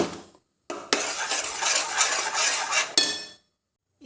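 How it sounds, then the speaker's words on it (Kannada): A spoon stirs an amla and sugar mixture in a pot, producing short bursts of scraping and clinking against the metal separated by brief silences, close and moderately loud. "ಸಕ್ಕರೆ ಬೊಕ್ಕ ನೆಲ್ಲಿಕಾಯ್ದ ಮಿಶ್ರಣವನ್ನು ಸರಿ ಮಿಕ್ಸ್ ಮಲ್ತದು"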